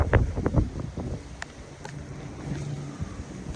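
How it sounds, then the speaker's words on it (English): Wind gusts blow outdoors in the mountains, a soft, uneven rush with low buffeting against the microphone and faint background movement. "the wind is starting to pick up. So you're probably gonna hear the wind."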